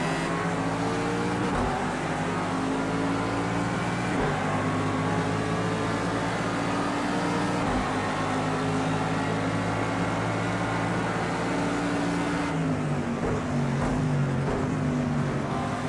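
Race car engines roar continuously in Project CARS 2 during a rolling-start race in a thunderstorm, with a BMW alongside. The steady, loud drone shifts pitch as the cars accelerate and change gear.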